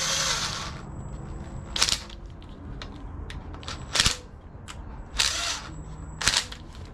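A power tool works a bolt on a K24 engine in short, sharp bursts of whirring, four or five quick pulses spaced a second or two apart, close and fairly loud against a quiet garage background.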